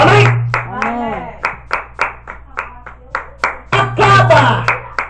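Rhythmic clapping from a church congregation at a Portuguese-language service, a dozen or so sharp, evenly spaced claps mixed with voices calling out and a loud shout near the end.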